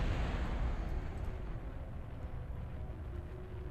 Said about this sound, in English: Activating engine. Engaging ascent.